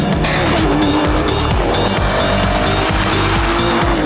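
Aston Martin DBS V12 engine roaring loud and continuous as the rear slides under power, with tire squeal threading through the steady high-revving drone for the full stretch.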